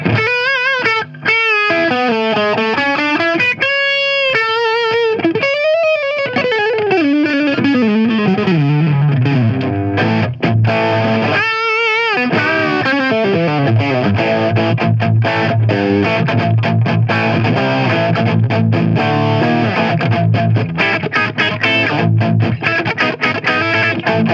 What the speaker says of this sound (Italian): Come senti è molto aggressivo per essere un overdrive.